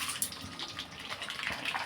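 Sabudana dropped into hot oil for frying, giving a steady, close sizzling hiss with brief crackles throughout, loud and continuous with no talk over it.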